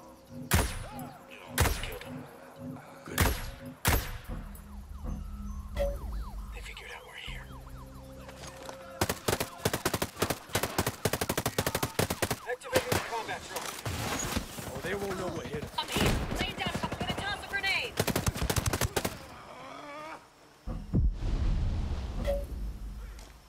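Bursts of gunfire in the Ghost Recon Breakpoint game, from sharp single shots to dense rapid volleys with heavy thuds, loud and close, with pauses between clusters and voices talking at times.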